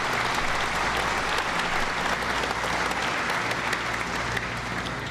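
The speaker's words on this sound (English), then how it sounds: "how about a round of applause for Dr. Worrell and his family." An indoor audience claps steadily and densely for several seconds at a public event, a sustained wash of applause with no voices over it.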